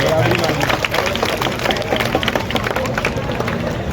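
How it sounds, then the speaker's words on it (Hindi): Large outdoor crowd at a live comedy stage show in Sarsaul clapping hard, a thick, loud wash of many hands with crowd noise and voices mixed in. "एक बार हमारी माताओं बहनों के लिए जोरदार ताली बजाओ"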